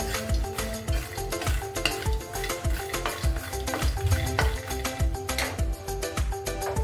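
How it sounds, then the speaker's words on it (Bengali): Makhana lightly frying in a pan with a little butter, a soft continuous sizzle under repeated scraping and stirring clinks of a utensil against the pan, close and steady throughout. "এর মধ্যেই কতগুলো একটু মাখালি হালকা করে ফ্রাই করে নেব।"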